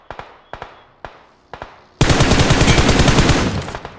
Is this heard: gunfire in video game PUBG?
yes